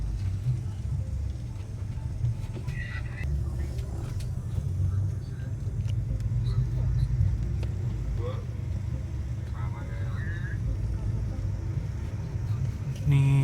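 Inside a Semeru double decker bus leaving Bekasi Timur, the engine gives a steady low rumble and road noise rises and falls through the ride. Occasional knocks and rattles come from the cabin, and people talk over it.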